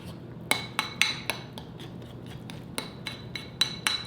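A spoon clinks and scrapes around a bowl while stirring a protein powder and almond milk mixture, giving a run of short, bright taps at an uneven rhythm, close and fairly quiet.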